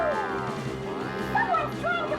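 A dog barks and yips in the background, several short whining yelps rising and falling over a steady game soundtrack.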